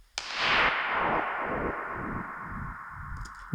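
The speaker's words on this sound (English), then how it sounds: "the last thing is some noise here." A noise hit used as a crash in an Ableton Live production: a sudden sharp burst that blooms into a long, hissing, slowly decaying wash, with a faint flicker right at the end, no voices.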